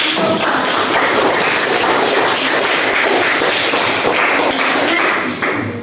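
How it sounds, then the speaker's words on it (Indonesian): Dense, loud applause from an audience after a closing Islamic greeting at a preaching presentation, a continuous wall of many clapping hands sustained for several seconds without talk. "Oke, tepuk tangan"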